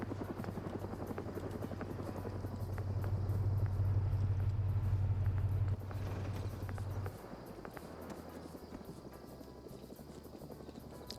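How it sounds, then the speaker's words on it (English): Helicopter in the military video game Arma, a steady loud rotor drone with a deep low thrum that continues throughout, dropping somewhat in level partway as the engine tone shifts. "The helicopter audio is messing with him."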